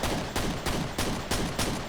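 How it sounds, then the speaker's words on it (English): Pistol shots ring out in Quake, six sharp evenly spaced reports about a third of a second apart, loud and close over steady game noise. "Amazing how bad I am at hitting these guys with the pistol."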